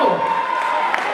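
Audience applause fills a pageant hall at the 2016 Miss Cameroun Suisse final as candidate number 7 leaves the stage: a steady, dense wash of clapping that holds evenly for the whole moment, with a faint voice or tone underneath.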